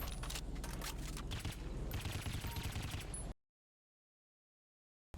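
Rapid automatic gunfire from the GTA 5 video game, aimed at a Schafter V12 LWB car, rattles loud and continuous for about three seconds, then cuts abruptly to silence.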